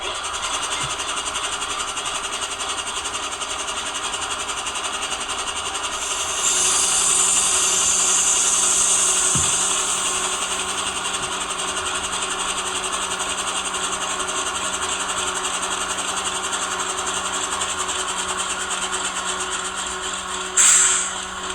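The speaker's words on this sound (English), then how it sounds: "Although our air compressor came on at the same time there, it was a very nice air release." A ScaleTrains Rivet Counter AC44C6M Norfolk Southern model locomotive sound unit runs a faint air compressor hum, with a louder hissing air release swelling in the middle and a short sharp burst near the end.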